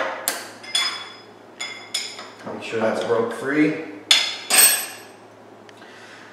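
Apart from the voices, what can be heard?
hammer striking to loosen punch press setup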